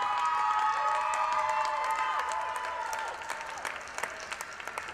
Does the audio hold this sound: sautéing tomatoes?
no